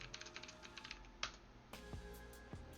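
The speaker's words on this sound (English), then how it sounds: "and now I type something in chat" Keys tapped on a computer keyboard, a quick irregular run of light clicks close up and quiet, with a firmer keystroke near the middle and a few spaced taps toward the end, no voice.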